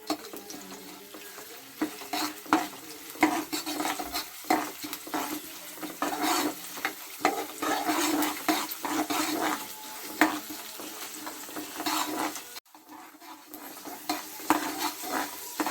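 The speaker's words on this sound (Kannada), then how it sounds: "ಸ್ವಲ್ಪ ಫ್ರೈ ಮಾಡ್ಕೊಂಬಿಡೋಣ ಇದನ್ನು." Urad dal, moong dal and mustard seeds fry in a pan with a steady crackling sizzle, punctuated by repeated scraping and stirring strokes of a spoon against the pan, close and moderately loud.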